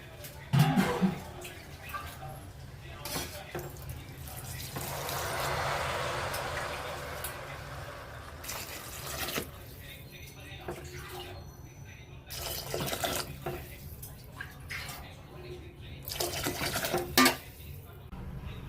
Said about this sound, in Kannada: 1 ಗ್ಲಾಸಿಗೆ 4 ಗ್ಲಾಸಷ್ಟು ನೀರು ಹಾಕ್ಕೋಬೇಕು